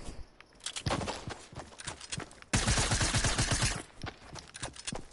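SMG gunfire in a video game arrives as rapid bursts of sharp, near shots, with a dense, loud volley in the middle and scattered quicker strings on either side.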